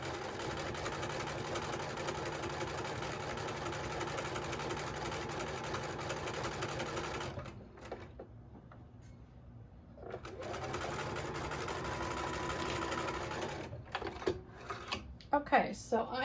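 Stitching a quilt block on a sewing machine, a steady close mechanical hum that runs for several seconds, drops away briefly, then resumes before ending in a few uneven knocks and handling sounds.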